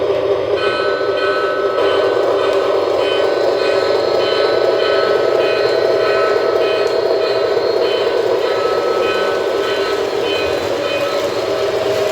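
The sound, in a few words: model train locomotive running on track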